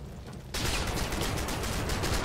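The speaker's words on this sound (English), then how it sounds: "a bit of mortar fire coming in." Mortar fire in a World War battlefield video game, a heavy rumbling barrage that erupts abruptly after a quiet moment and continues as dense, loud, overlapping blasts and crackling.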